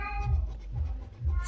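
A house cat meows several times, fairly faint, over steady background music and low voice sounds.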